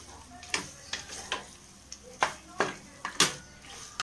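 Tomatoes being sautéed in a pan for a pressure-cooker chicken biryani sizzle steadily while a utensil stirs them, with about ten sharp scraping strokes in an uneven rhythm, close and fairly loud.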